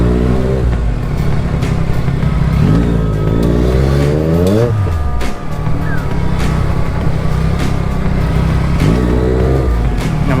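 Motorbikes and cars idle and crawl through a jammed road, with a loud, close engine drone and several rising and falling revs under steady traffic noise.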